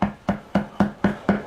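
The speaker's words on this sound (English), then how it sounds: "We're going to mince up 1 shallot." A kitchen knife mincing one shallot on a cutting board: six evenly spaced, crisp chops in a steady rhythm, close and clear with no talking.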